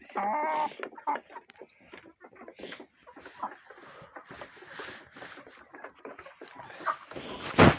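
Hens cluck and squawk nearby in short, irregular bursts after being separated from the roosters, with a loud rooster-like call at the start and a sharper noise at the end.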